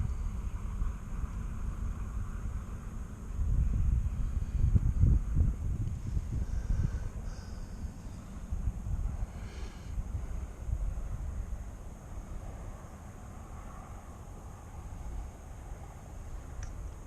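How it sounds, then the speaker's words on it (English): Strong wind buffeting a drone flying into a headwind on a windy day near a cemetery, a steady low roar with louder gusts swelling midway, no talking. "Yeah, I'm hitting the headwind right now."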